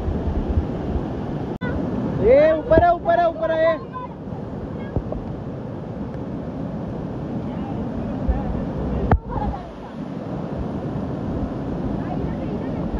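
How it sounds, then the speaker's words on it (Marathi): Steady broadband rush of water flowing from the waterfall at Devkund in the Sahyadri hills, continuous and fairly close, with a brief burst of speech near the start and a couple of sharp knocks. "मगासपासून जो आवाज येत होता ऍक्च्युली हाच वाहत्या पाण्याचा आवाज होता"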